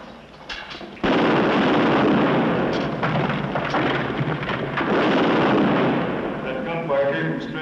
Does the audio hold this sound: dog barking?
no